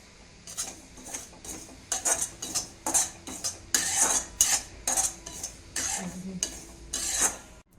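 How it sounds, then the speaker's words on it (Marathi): A spoon scrapes and clinks against a dry pan as poppy seeds roast without oil over low heat for homemade garam masala, in quick, irregular strokes close up with a faint crackle. "आता आपण खसखस भाजून घेऊया आपल्याला खसखशीला पण तेलाचा वापर नाही करायचा"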